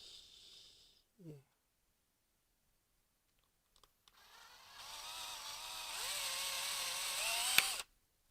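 A power drill whines up and spins steadily into wood while repairing a USB DMX controller, a close, rising motor tone lasting several seconds after a few faint clicks and a quiet pause.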